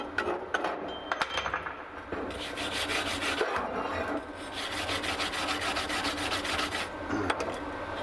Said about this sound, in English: so we'll chip the slag off